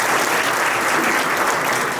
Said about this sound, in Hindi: और अगर तारीफ है तो फिर तालियों से।